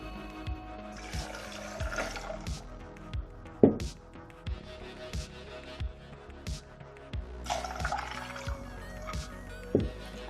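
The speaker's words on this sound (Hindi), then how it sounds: "और ये 2 गिलास पानी।" Two glasses of water are poured into a blender jug in a home kitchen. Two separate splashing pours stand out, close by, against scattered clinks and knocks.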